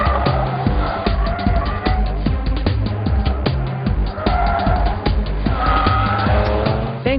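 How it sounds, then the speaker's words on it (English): A 2010 Audi S4 understeers on a race track, its front tires plowing: a loud, continuous engine roar that rises and falls with gear changes, with tire scrub mixed in throughout. "we will share the following shots of the S4 gracefully plowing off its front tires."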